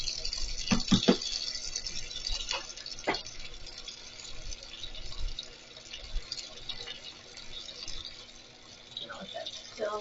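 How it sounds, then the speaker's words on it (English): Tap water runs and splashes as a cup is rinsed under it, with scattered clinks and drips over a steady wash of flow, all close by and moderately loud. "I like to rinse the cup underneath the water."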